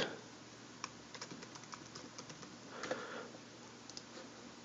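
Computer keyboard typing while entering text in Photoshop: a quiet, steady run of light key clicks at a distance, with no talking.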